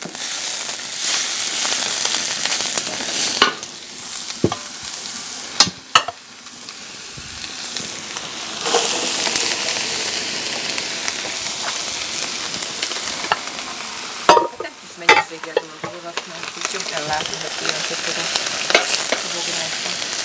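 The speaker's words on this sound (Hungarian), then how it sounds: "együtt össze fog sülni a paprikával, összepárolódik, és akkor teszem is bele a paprikát" Peppers go into onions already frying for lecsó, and the pan breaks into a loud, dense sizzle with sharp bursts and scraping stirs, running continuously and close.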